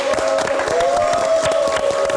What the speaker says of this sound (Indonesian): kita berikan tepuk tangan untuk Jason.